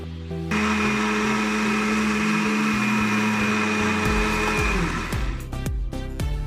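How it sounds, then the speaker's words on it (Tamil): A mixer grinder whirs steadily as it grinds masala paste for mushroom gravy, a loud high motor whine running for several seconds before winding down with rattling clatter at the end. "வாங்க அரைச்சிட்டு காமிக்கிறேன்."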